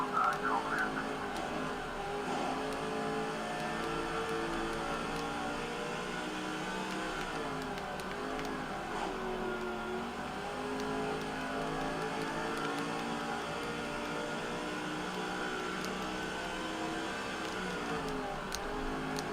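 NASCAR 05 Busch Series race cars in a video game run at Levi Speedway, a continuous loud engine drone with shifting whines as cars pass close, while a commentator talks over it.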